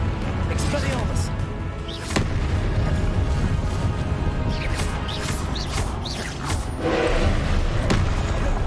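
Spell combat in Hogwarts Legacy, with repeated booming blasts and crashing impacts in quick succession while a voice speaks over the action.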